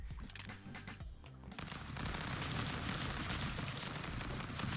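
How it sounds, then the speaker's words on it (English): Rapid, chaotic gunfire in the game Stick Fight, dense bursts of shots that thicken into a continuous loud barrage after the first couple of seconds, no voices present. "I love gunfights because it's just shooting randomly until you actually get it."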